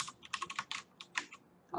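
Close keyboard typing while coding a game, with a fast, uneven run of key clicks in short clusters and brief gaps and no talking.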